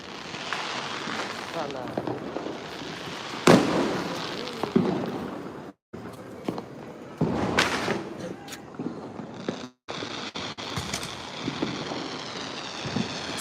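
Repeated Diwali firecracker bursts go off at intervals, some loud and sharp, others distant crackles, while people talk throughout.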